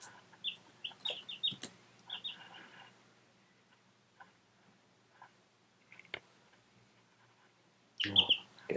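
Small chicks give brief, quiet peeping clucks in short scattered bursts, followed by a long lull with faint clicks and a louder flurry of chirps near the end.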